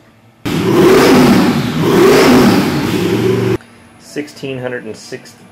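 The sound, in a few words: Nelson Racing high-horsepower engine dyno pull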